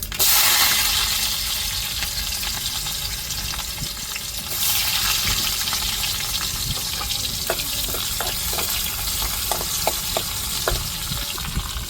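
Mustard seeds fry in hot oil for a curry kuzhambu tempering, a steady loud sizzle with scattered sharp pops and crackles growing more frequent toward the end, no voices.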